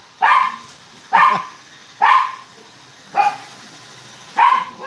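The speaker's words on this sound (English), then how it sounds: "The wife just got home, so they're barking up a storm." Dogs bark at home as someone arrives, five loud, evenly spaced barks close by, each a sharp single woof with brief pauses between, no talk.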